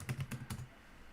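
Quick run of keystrokes on a computer keyboard during a Raspberry Pi 5 setup, a burst of close, crisp clicks for about half a second, then quiet room tone.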